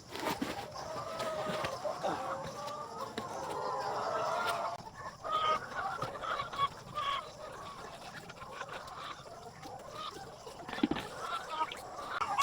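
RTL chickens on an egg farm cluck and murmur in a busy flock nearby at morning feeding, with overlapping soft calls and a few louder squawks.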